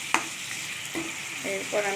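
Potatoes frying and being stirred into masala in a pan for a cauliflower-potato fish curry, a soft sizzle with a sharp utensil scrape and several clinking stirs, a brief voice speaking over it.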